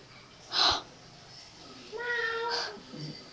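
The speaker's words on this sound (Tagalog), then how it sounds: "may pusa." A cat meows loudly and close by, with a second meow a couple of seconds later and a brief voice in between.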